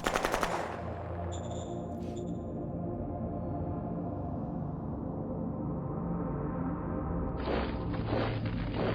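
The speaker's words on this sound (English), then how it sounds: "I'm under heavy fire." Machine gun fire in the Shadow Empire strategy war game: a sharp opening burst, a few tonal electronic blips, then a long rumbling barrage with a later high-pitched tonal cue, loud throughout.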